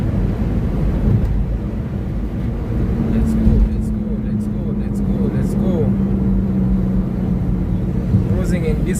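Rumbling engine and road noise inside a matatu minibus moving through Nairobi traffic, a steady low drone with a passing vehicle swell and faint clatter, continuous and close.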